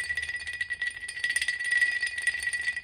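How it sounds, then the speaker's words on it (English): A small cleaned and preserved metal crotal bell jingles continuously with a bright, rattling tinkle, close and fairly quiet, with no voices. "crotal bell"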